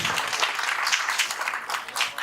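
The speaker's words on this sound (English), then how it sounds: "A round of applause, eh?" An audience claps after a talk at the SEEDIG 2017 conference session in Ohrid, producing brisk, fairly close applause in uneven waves that fades slightly near the end.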